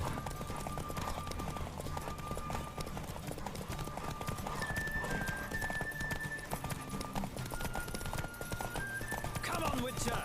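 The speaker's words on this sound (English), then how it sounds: "Don't spare the horse!" A horse gallops in a race in the video game The Witcher 3, with steady rhythmic hoofbeats over a busy background of music and game sounds.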